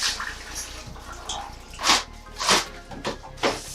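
Water splashing and running while a basin is rinsed in a sink, uneven bursts of splashing over a steady background wash, close by, no speech.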